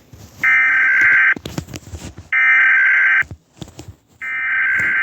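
A US Emergency Alert System alarm sounds as loud, harsh two-tone bursts, three long blasts separated by short gaps of clatter and noise, with no talk.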